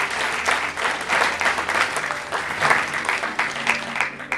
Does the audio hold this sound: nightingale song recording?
no